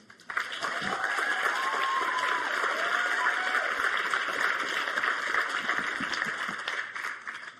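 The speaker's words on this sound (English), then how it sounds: "Applaud yourselves." A crowd at a spoken talk applauds steadily, a full, sustained wash of clapping from many hands that holds for several seconds at even loudness, with faint tonal sounds underneath.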